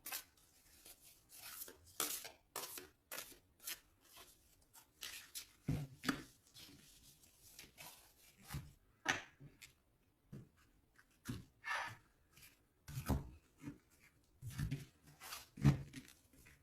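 A deck of tarot cards being cut and shuffled by hand: a long run of quick, dry riffling and slapping bursts, close and soft, in uneven clusters with brief pauses between them.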